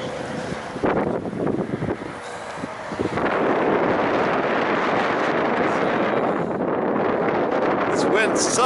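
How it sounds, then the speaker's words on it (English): Strong wind of about 20 mph buffets the microphone outdoors at a small concrete pour, a steady roaring rush that thickens after the first few seconds. "This wind sucks. It's like a 20 mile an hour wind."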